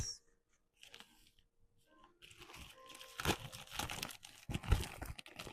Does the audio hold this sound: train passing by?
no